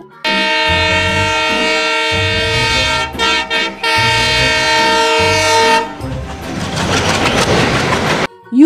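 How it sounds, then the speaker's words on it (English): A train sound effect in a children's phonics alphabet song: long, loud, sustained horn blasts broken by a short gap, then a rattling clickety-clack rumble of rolling wheels before an abrupt stop. "T for train."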